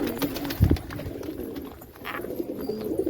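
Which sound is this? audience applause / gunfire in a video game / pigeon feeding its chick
pigeon feeding its chick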